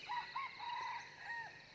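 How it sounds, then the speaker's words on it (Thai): A wild red junglefowl crows from somewhere off in a rubber plantation near hills, a faint, distant cock-a-doodle-doo call heard twice over a low background hiss. "นี่เสียงไก่ป่านะครับเพื่อน"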